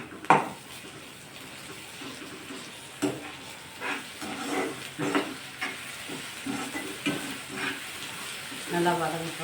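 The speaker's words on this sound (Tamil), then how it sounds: "பச்சை வாசனை போகிற மாதிரி வதக்கணும்." Ginger garlic paste sautés with softened onions, a steady frying sizzle punctuated by repeated scraping stirs and the occasional clatter of a utensil against the pan, close up, with no one speaking.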